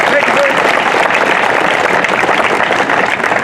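Applause from a crowd at a motorcycle ride departure event for a photographer, steady and loud throughout, with voices mixed in.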